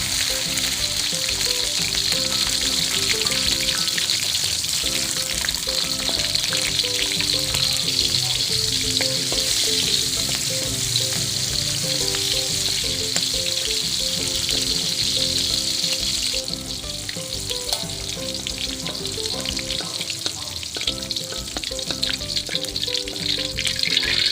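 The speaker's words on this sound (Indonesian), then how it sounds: "lalu kita akan goreng cabai rawit dengan bawang putihnya" Continuous loud sizzling of bird's eye chili and garlic frying in hot oil, a steady crackling hiss throughout with occasional stirring, no voices.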